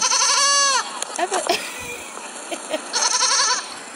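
Several goats bleat loudly and close by, one long quavering call at the start and another toward the end, with shorter cries and voices in between.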